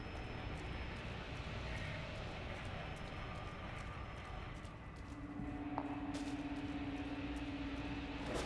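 An airplane engine in The Evil Within DLC video game drones steadily as a low continuous rumble, with small clicks and a sustained tone joining partway through.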